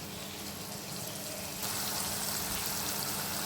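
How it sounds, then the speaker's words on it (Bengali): Spices with chili and coriander powder simmering in a pan with added water, a steady close bubbling hiss that grows louder and brighter partway through. No talking. "আমি একটু জল দিয়ে এটাকে একটু কষে নেব"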